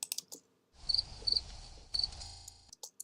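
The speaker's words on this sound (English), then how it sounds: "There are some crickets." Steady high-pitched cricket chirps in short repeating pulses over a low rumbling bed, with a few clicks before and after.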